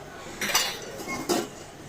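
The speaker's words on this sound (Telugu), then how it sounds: "ఇలా పప్పు గుత్తితో ఇలా మెత్తగా మ్యాష్ చేసుకోవాలండి" Two distinct metal-on-pot clinks from a dal masher working cooked gongura dal, the two strikes about a second apart, close and fairly loud over a quiet background.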